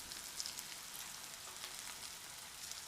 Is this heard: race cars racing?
no